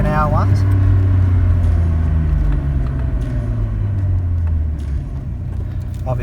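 A Nissan Skyline GTR cruising at speed on a quiet road during brake bedding, its engine and road noise a loud, steady low rumble throughout, with a voice speaking over it.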